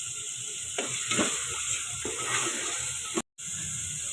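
Mashed turnip bharta roasts in oil in a pan, giving a steady close sizzle and hiss with a few stirring scrapes and a brief dropout near the end, and no one talks.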